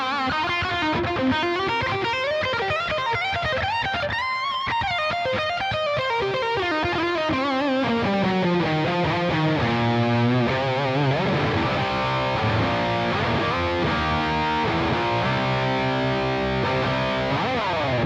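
A Les Paul lead guitar plays a continuous melodic line through the amp's lead channel with overdrive, delay and reverb, loud and sustained with bending, ringing notes and no talking.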